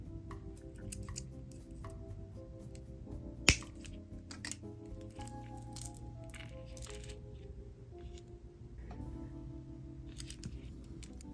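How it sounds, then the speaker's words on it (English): Scissors cut excess beading wire while a necklace is being made. A single sharp close snip stands out over faint background noise, with a few quieter clicks around it. "let me cut off the excess beading wire"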